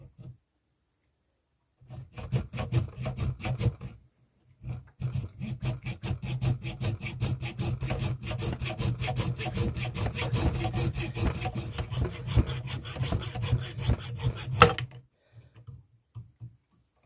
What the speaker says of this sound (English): what I'm going to try and do is hacksaw this off